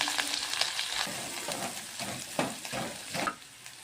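Cumin, chili and crushed garlic frying in a pan with mustard seeds, a steady close sizzle with crackling pops and a few scraping stirs throughout.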